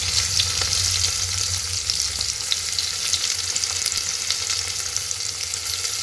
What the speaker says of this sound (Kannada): ಈಗ ಅಷ್ಟು ಚಲೋ ಫ್ರೈ ಆಗಿದೆ